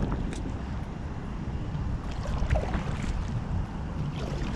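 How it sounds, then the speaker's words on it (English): Water noise and wind buffeting around a stand-up paddler on an inflatable Bote Zeppelin Aero kayak, a steady close wash with faint paddle splashes, no talk. "So right now I'm just stand up paddling right now"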